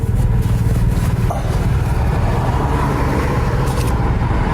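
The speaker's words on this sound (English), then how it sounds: "It's not because of your loud exhaust." A car with a loud exhaust, stopped by police at the roadside, gives a heavy, close engine drone that holds steady for several seconds with no talking.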